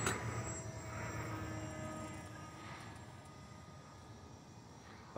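Aeroscout S2 1.1m RC plane cruising at about 35-40% throttle in the morning, a faint, steady drone of its electric motor heard from a distance over soft background hiss.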